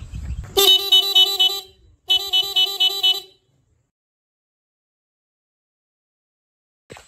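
Dual horns wired onto an old Honda CD100 motorcycle honk in two bursts of rapid repeated tones, loud and close, and then fall silent.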